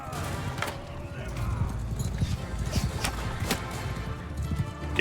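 Horse hooves clip-clopping in the video game Mount and Blade Bannerlord, irregular hoof thuds over a low rumble of battle noise, with a neigh and scattered sharp impacts.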